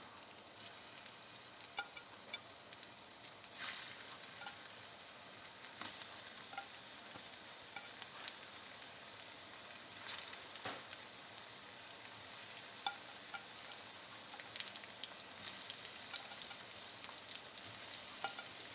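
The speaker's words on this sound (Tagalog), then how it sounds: "mainit na yung cooking oil natin. Ilalagay na natin yung banana natin. Yung saging na saba." Saba bananas frying in hot cooking oil for Filipino banana cue hiss with a steady bubbling sizzle, punctuated by sharp crackles and occasional stirring clicks, close and unbroken without talking.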